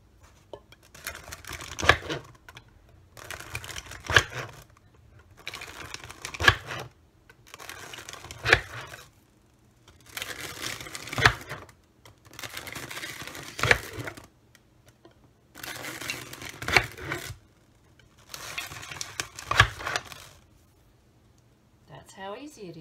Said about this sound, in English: Just poke the holes in there.